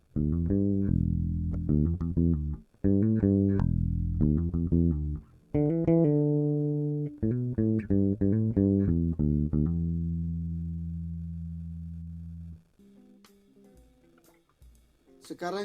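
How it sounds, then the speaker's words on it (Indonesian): A bass guitar plays a single pattern of left-hand pull-on and pull-off notes, close and clear, with quick connected note changes, then a long sustained note that fades before a few lighter plucks. "sekarang saya akan coba memainkan teknik pull on dan pull off dalam satu pola."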